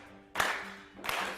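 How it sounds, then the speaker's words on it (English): Two sharp bursts of hand clapping from a group in a remote healing session, a quick clap, a short pause, then another, fairly faint and alone. "So I want everyone to start clapping."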